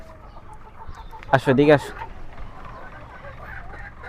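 Hens clucking while being fed their morning layer feed on a poultry farm, a short burst of loud clucks near the middle over quiet background, with a person calling to them.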